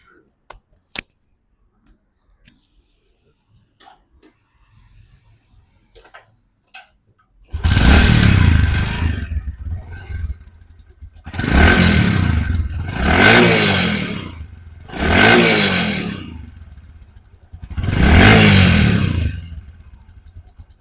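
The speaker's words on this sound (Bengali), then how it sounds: "বাইকটির সাউন্ড কোয়ালিটি শুনলে আরও অবাক হয়ে যাবেন।" A Bajaj Platina 110cc motorcycle with a weak battery, recorded close at the exhaust, gives several loud bursts of engine cranking and revving after near silence, each a few seconds long and separated by short pauses.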